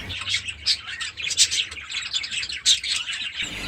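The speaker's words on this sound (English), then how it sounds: "the birds are very friendly and chatty today" Budgerigars chirping and chattering constantly in an aviary, a dense, busy flock of high twittering calls close by with no voices.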